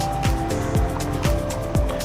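Motorcycle being ridden outdoors around a municipal compound, a close steady engine drone with regular gusty whooshes roughly every half second, loud and continuous.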